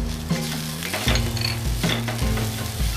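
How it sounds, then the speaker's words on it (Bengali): Ridge gourd and grated coconut frying in a pan, a continuous close sizzle with repeated scraping strokes of a spatula stirring the mix, no talk. "এটা আরো 2-3 মিনিট এইভাবে ভাজতে থাকবো যাতে নারকেল থেকে কাঁচা গন্ধটা চলে যায়"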